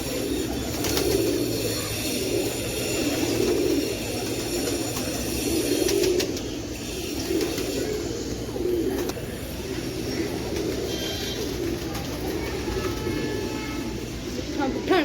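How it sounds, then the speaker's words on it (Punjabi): Pigeons of several breeds coo in a steady, low murmur throughout at a Sikh gurdwara, Nanak Jhira Sahib, with a faint hum and some distant voices in the background. "ਕਬੂਤਰ ਵੀ ਰੱਖੇ ਹੋਏ ਆ ਬਾਬਾ ਜੀਆਂ ਦੇ ਅੱਡ ਅੱਡ ਕਿਸਮਾਂ ਦੇ ਹੈਗੇ ਕਬੂਤਰ ਸਾਰੇ"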